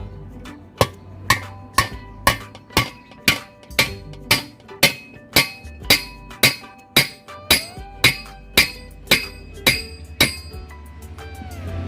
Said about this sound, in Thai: แล้วเรานำค้อน ทุบลงไปตรงบริเวณนี้เลย